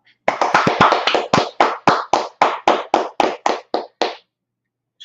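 Hands clap in a rhythmic, evenly spaced series of about fourteen loud, close claps at a religious street gathering in Harlem, New York, then stop abruptly.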